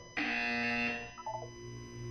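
A single loud, harsh electronic buzzer from the video game Portal 2, sustained for nearly a second, then a few softer tonal blips fade away into a low hum.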